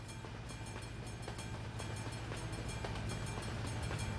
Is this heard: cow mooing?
no